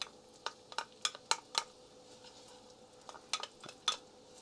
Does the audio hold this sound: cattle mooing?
no